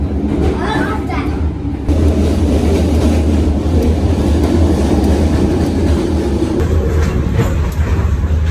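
Sleeper train from Saigon to Nha Trang in Vietnam, heard from inside the carriage as a loud, continuous low rumble and rattling of rails, with children's voices and chatter over it.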